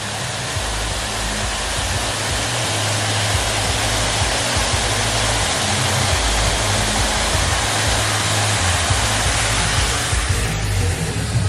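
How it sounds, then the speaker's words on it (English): Small waterfall in West Virginia, a steady broadband rush of falling water, close and constant throughout with no talk. "Nice little waterfall."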